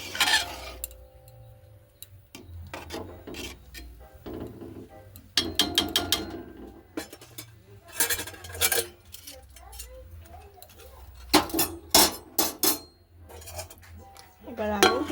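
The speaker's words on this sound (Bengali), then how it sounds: "এবার ভালো করে নেড়ে দেব।" Papaya moong dal khichuri being stirred in a pot, with a spoon clanking and scraping against the metal in irregular bursts, some quick runs of close clatters, over a low background hum.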